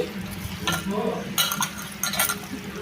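Curd rice is stirred together with poured drinking water in a dish. Near, soft, wet squelching mixes with intermittent clinks and scrapes against the vessel, coming in short uneven bursts.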